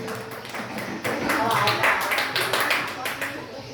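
A small audience at a Quran quiz competition in a madrasah claps in a brief, fairly loud burst that swells after the first second, with a voice faintly present.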